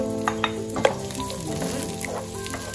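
Chopped onion dropped into hot oil in a pan for a mung bean monggo dish, hissing into a loud, steady close sizzle after a few sharp taps at the start.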